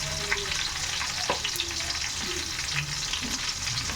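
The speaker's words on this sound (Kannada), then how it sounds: "ಕಟ್ ಮಾಡಿ ಇಟ್ಕೊಂಡಿರೋ ಹಸಿಮೆಣಸಿನ್ಕಾಯಿನ ಹಾಕೊಂಡು ಸ್ವಲ್ಪ ಫ್ರೈ ಮಾಡ್ಕೊಳ್ಳೋಣ" Green chillies and curry leaves frying in hot oil for vegetable fried rice, giving a constant close hiss and crackle with occasional soft stirring knocks and scrapes, and no voices.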